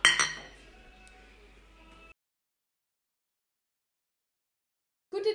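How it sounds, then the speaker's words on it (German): A beer bottle is opened with a knife, giving one sharp metallic clink and a brief ringing rattle, then silence before a voice starts. "Und wie es für den Schmied gehört, mache ich mein Bier mit dem Messer auf."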